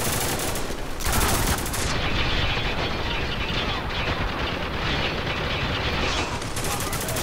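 Dense, continuous blind gunfire from the video game Spec Ops: The Line, loud sustained automatic bursts overlapping with no gaps, the volume jumping slightly after the first second.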